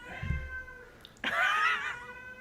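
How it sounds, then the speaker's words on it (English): A cat gives a muffled, drawn-out meow with a toy in its mouth, then a louder, strained yowl, close by with no other sounds around. "he's meowing with it in his mouth."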